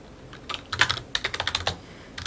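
Typing on a computer keyboard while entering a chart title in Excel: a quick, irregular run of close, crisp key clicks with short pauses between bursts, no voices.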